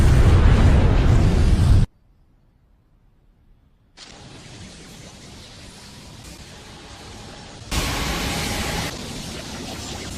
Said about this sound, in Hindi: धमाके को एक दूसरे स्पेस में भेज दिया